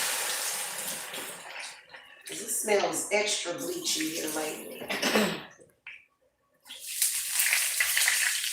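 Tap water runs into a measuring cup in a home kitchen, a soft splashing stream heard in bursts beneath and between someone's close conversational talking.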